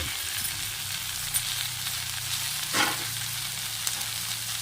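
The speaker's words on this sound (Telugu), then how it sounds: "నువ్వులు కాస్త వేగిన తర్వాత సిద్ధం చేసుకున్న ముల్లంగిలు వేసేసుకోవాలి" Radish pieces fry with sesame seeds in oil for a radish chutney, giving a steady close sizzle with a brief louder crackle as pieces shift, no voices.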